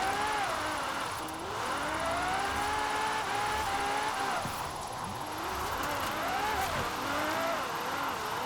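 A car being driven in Forza Horizon 4 on a sixth-gear setup, its engine note rising and falling steadily throughout with a faint high whine running above, and no voices present.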